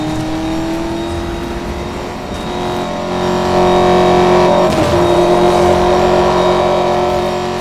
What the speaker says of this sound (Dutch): Daar hebben we de Maserati MC Stradale met zijn mooie geluid.